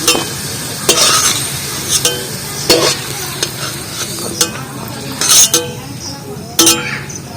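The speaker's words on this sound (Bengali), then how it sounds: "আলুগুলো ভালো করে লাল লাল করে ভেজে নিয়েছি এটা তেলের থেকে তুলে নিচ্ছি" Potatoes fried deep red in oil, then lifted out onto a plate: a steady close sizzle with repeated metallic clinks and scrapes of a utensil against the pan.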